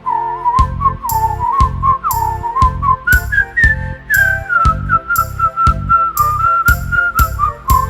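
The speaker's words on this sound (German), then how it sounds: "Unsere Klasse ist musikalisch und wir pfeifen jetzt im Chor" A school class whistles together in chorus, a bright melodic tune carried in short repeated phrases with steady rhythmic backing, loud and close with no talking.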